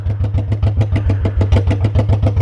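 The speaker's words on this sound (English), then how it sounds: "I crank the motorcycle up and let it run" A motorcycle engine idles steadily after being cranked, its exhaust heating up, with a close, loud, even low-pitched chugging pulse at a quick regular rhythm throughout and no talking.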